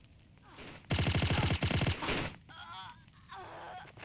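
Automatic gunfire in the video game Tomb Raider: The Action Adventure, a loud sustained burst of rapid rhythmic shots lasting about a second, followed by fainter game sounds and warbling tones.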